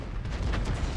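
An FV3805 self-propelled artillery gun fires in World of Tanks, giving a single heavy, booming blast with a rumbling tail that fills the short moment on its own.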